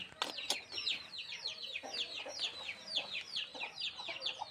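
Several chickens clucking close by in quick, repeated bursts, with a couple of sharp clicks early on and a low background murmur.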